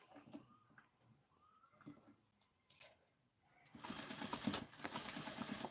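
A sewing machine stitches the side seams of a knit garment, starting after a few quiet handling noises and then running in a fast, steady, close mechanical whir to the end.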